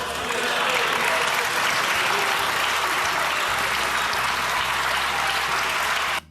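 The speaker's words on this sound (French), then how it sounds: "c'est Renaissance qui applaudit, le centre" Deputies in the French National Assembly applaud, a dense, sustained burst of clapping from a large chamber that holds steady for several seconds and then cuts off abruptly.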